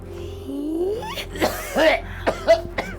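A few short, harsh coughs in quick succession, with a voice-like tonal sound before them.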